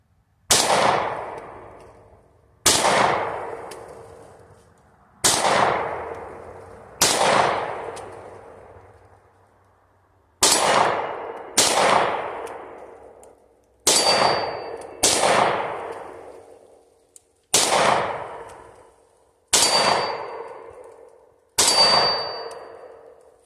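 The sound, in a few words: gunshots ringing steel targets while shooting holding a light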